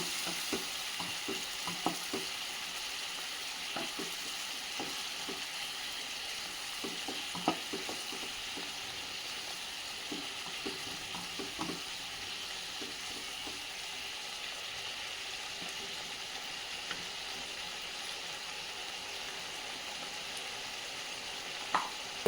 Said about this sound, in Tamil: இது நல்லா கொதிச்சு வரட்டும்.